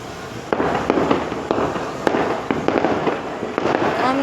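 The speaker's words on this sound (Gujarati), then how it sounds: "કેવા ફટાક્યા ફોડે" Firecrackers go off in a festive outdoor setting, sharp bangs popping every half second or so in an uneven, rapid string, some near and loud, others fainter, with crackling in between.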